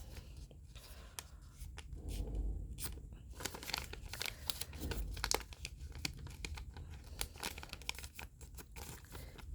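Paper crinkles and creases as origami paper is folded into a character's ears, producing a close, quiet string of dry rustles and crisp snaps that runs steadily with no voices.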